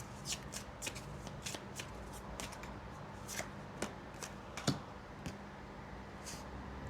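Tarot cards shuffled by hand in repeated crisp riffles and slaps, close and fairly quiet, with short bursts spread irregularly through the stretch and no talk.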